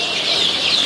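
A chicken gives a short, close, fairly loud cluck or call lasting under a second, standing alone with no talk around it.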